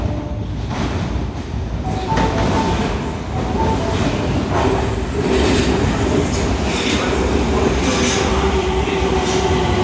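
An Osaka Metro Tanimachi Line 30000 series train pulls into an underground station, a loud rumbling roar of wheels and motors with rhythmic clatter and faint squeals, a station announcement voice faintly underneath.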